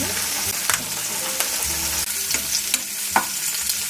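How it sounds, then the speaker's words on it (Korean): Tofu grilling in a pan for a low-sugar salad pasta, a steady close sizzle broken by several short sharp clicks and scrapes of a utensil, with no talking. "전 두부를 진짜 좋아하거든요. 많이 많이 구워줄게요"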